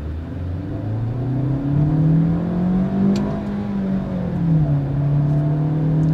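A 2022 Maruti Suzuki XL6 engine with a 6-speed automatic in manual paddle-shift mode revs up smoothly, its pitch climbing, holding, then dropping after a gear shift before rising again, steady and close.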